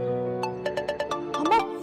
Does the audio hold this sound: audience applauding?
no